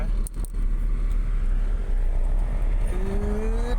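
A car drives up the road to Wat Mon temple in Lampang, its engine giving a steady low rumble with road noise. A rising whine joins near the end as it climbs.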